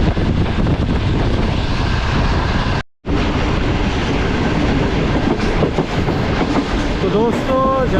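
The 41 Up Karakoram Express on the Karachi to Lahore line runs with a loud, steady rumble and clatter of wheels on track, broken by one brief cut, with squealing tones near the end as the train slows approaching a station.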